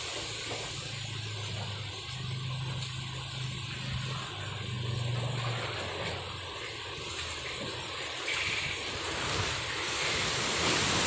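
Strong wind blowing by the sea in Lombok, with continuous rushing gusts buffeting the microphone over the steady roar of breaking surf, loud and unbroken throughout.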